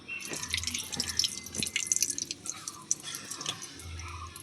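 Cooking oil going into a hot kadai (wok) while making gaja sweets for Rath Yatra, heard as close, crisp dripping and trickling liquid splashes scattered through the clip, with no talking.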